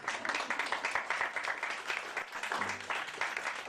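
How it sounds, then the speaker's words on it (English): An audience at a live music show applauds after a song, a dense, continuous wash of clapping with whistles cutting through near the end, steady and moderately loud throughout. "Yes, whistles and claps everywhere."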